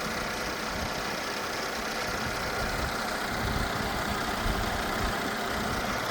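A naturally aspirated Mercedes 3.5 V6 in a 2012 E350 wagon with 319,000 km idles steadily, a smooth continuous engine hum with no voices and no revving.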